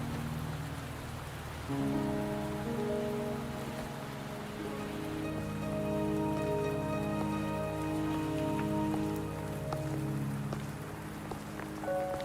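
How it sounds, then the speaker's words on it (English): Rain in the video game Wuthering Waves: a steady patter of rainfall on surfaces runs beneath sustained, layered music tones, an even, continuous wash with no voices. "Are you trapped here by the rain?"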